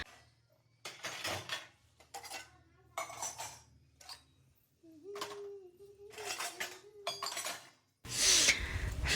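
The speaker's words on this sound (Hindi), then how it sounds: "बर्तन रेक में।" Washed steel dishes and utensils are set into a dish rack in a home kitchen, with repeated clattering and clinking bursts spread over several seconds, close and fairly loud, ending in a louder scraping rattle.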